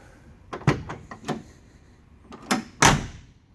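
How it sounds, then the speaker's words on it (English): Door of a 1972 Chevy C-10 4x4 pickup truck worked by hand: a series of close metallic clicks and latch clunks, ending in a firmer shut, with no talking. "The door opens and closes nicely."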